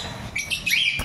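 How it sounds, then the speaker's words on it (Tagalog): A Lutino Opaline pet bird gives a brief, close chirp, a quick bright call lasting about a second. "Napakagandang ibon to"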